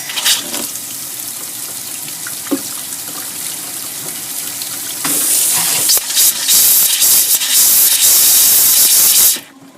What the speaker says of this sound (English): Open up the cold, so all the water's out and it's spitting air.